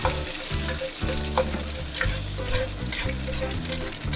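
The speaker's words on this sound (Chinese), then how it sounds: "油面有烟，我们倒入鸡蛋快速翻炒" Eggs quickly stir-fried in smoking-hot oil in a wok for beef fried rice, a loud continuous sizzle with rhythmic spatula scrapes and tosses every half second or so, close and steady.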